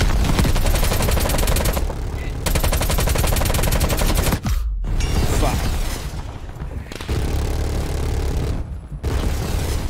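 Sustained rapid gunfire in the Call of Duty: Black Ops video game, loud automatic bursts with brief pauses and explosive booms mixed in, while players talk over the shooting.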